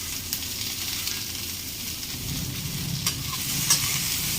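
Cauliflower and potato curry frying in hot oil while being stirred, a steady close sizzle with scraping stir sounds and a few sharper clicks of the spoon against the pan.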